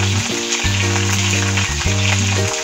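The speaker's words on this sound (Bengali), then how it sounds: "আমার পেঁয়াজটা মোটামুটি ভাজা হয়ে গেছে" Onions sizzle in hot oil in a pan with whole garam masala spices and dried red chillies, a continuous close frying hiss with occasional stirring scrapes and no speech.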